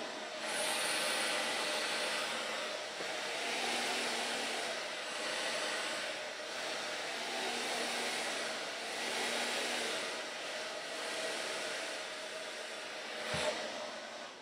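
A hair dryer runs steadily while blow drying hair with a round brush, a continuous close whooshing hum with slight rises and dips in airflow and no talking.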